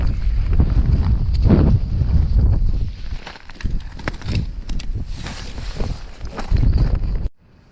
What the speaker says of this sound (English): it's a nice day, but very windy. And wind comes in gusts